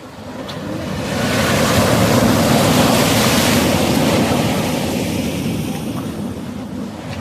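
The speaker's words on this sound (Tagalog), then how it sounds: "Ayan pa alon." Ocean waves surge and wash continuously during a fishing trip, a loud, steady roar of surf with gusting wind noise across the microphone and no voices.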